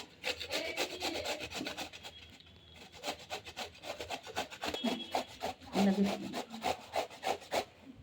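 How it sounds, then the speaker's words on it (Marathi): A peeled gourd is grated by hand, producing a rapid series of rhythmic rasping strokes, close and steady, with brief pauses between passes. "आता मी याला किसून"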